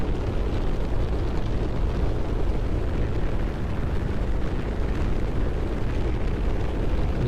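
Weapon fire in the space video game Final Orbit, a dense, continuous rumbling roar that holds at full, steady loudness for several seconds with no speech.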